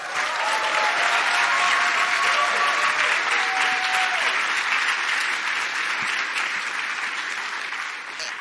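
A crowd at a labor strike rally applauds steadily, a dense wash of clapping that holds for several seconds and slowly tapers, with a few faint voices underneath.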